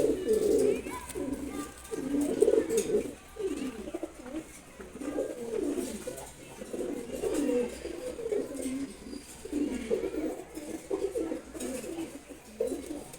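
A pair of silver gola pigeons coo close by, repeated soft, throaty rolling coos in overlapping bursts that rise and fall steadily, with no talking.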